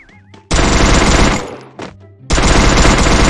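The Vector gun fires rapidly in a video game, in two long, loud, dense bursts separated by a short pause, with faint game sounds in between.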